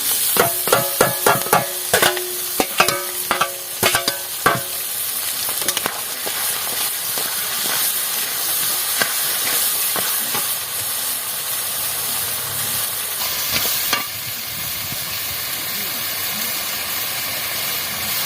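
Pointed gourd curry with green chilli paste stirred in a pan for potol jhal: a spoon scrapes and knocks in a quick run of distinct taps early on, then steady sizzling and stirring carry on close by, with no talk.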